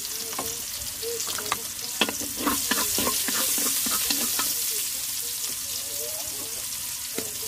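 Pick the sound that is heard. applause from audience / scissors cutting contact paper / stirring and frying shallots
stirring and frying shallots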